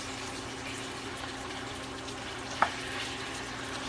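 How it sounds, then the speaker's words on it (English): Shrimp and beef frying in a pan, a steady soft sizzle that runs throughout at close range, with one sharp click partway through and no talking. "I'm just going to turn my shrimp over, make sure they're cooked on both sides"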